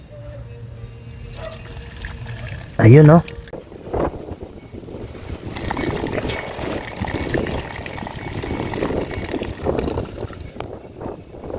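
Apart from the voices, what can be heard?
distilled water draining from Yamaha NMAX coolant system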